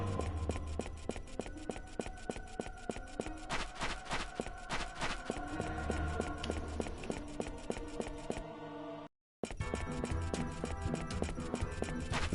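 Footsteps in the video game Star Ocean: Till the End of Time, a steady run of regular clip-clop steps under busy game music, continuing before and after a brief dropout.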